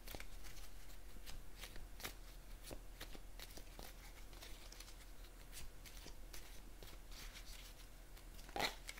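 Oracle cards being shuffled by hand in a quiet room, a steady run of soft riffling flicks and card slaps at close range with no talking over them.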